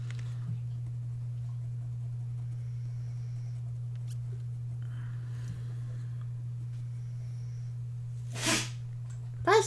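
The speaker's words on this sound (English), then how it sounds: "Bless you." A single quick sneeze from someone nearby breaks a quiet room with a steady low electrical hum, followed moments later by a sniffly burst.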